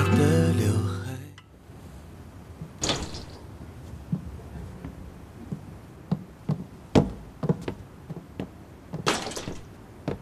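Knocking on a door in a TV drama scene: after a brief musical sting, a series of sharp irregular raps and thumps spread across several seconds, moderately close, with no speech.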